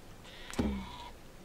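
A single short sheep bleat from the video game Dawn of Man sounds faintly in the middle of an otherwise quiet moment.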